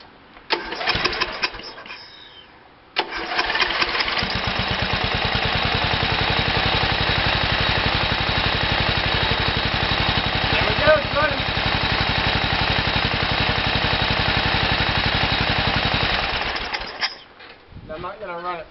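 A White tractor engine that has gas in its oil cranks briefly, pauses, then catches at about three seconds and runs at a steady, loud, even idle for roughly fourteen seconds before shutting down.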